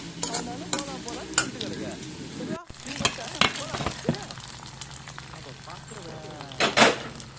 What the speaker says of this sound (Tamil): ஆனால் பொறிச்சிடும் சீரகம்